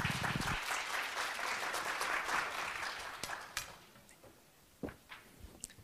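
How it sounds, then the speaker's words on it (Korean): Applause from a conference audience fills the first few seconds, then thins out into scattered claps and fades away. "다 박수 부탁드립니다"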